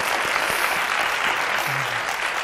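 Steady applause from a church congregation, a continuous wash of clapping that holds evenly throughout without voices rising above it.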